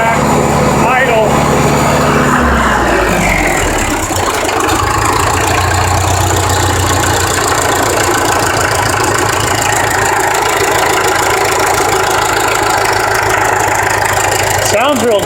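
A 1966 John Deere tractor, just restarted after years abandoned on a farm, idles with a steady low rumble and even chugging pulse, loud and close, with voices talking over it.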